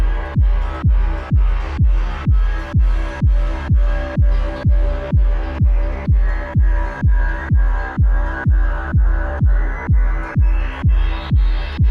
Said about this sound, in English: It's already a techno patch with another kick.